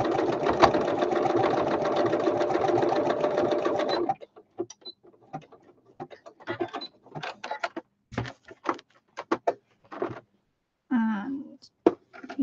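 Sewing machine stitching a brown vintage-style journal cover: one loud continuous run of about four seconds, then scattered short clicks and handling sounds with brief stops.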